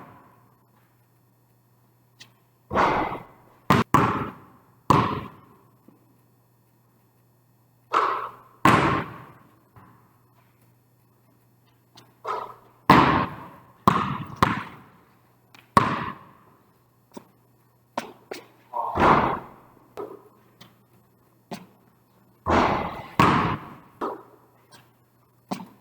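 A basketball bounces repeatedly on a court during an elementary school dribbling and shooting drill, loud close thuds arriving in irregular bursts with short pauses between sets, with no talking.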